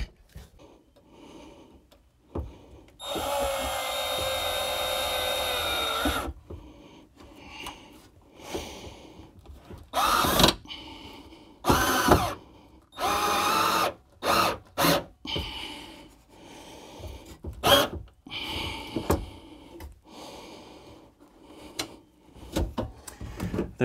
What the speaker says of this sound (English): get just a couple little finish screws in here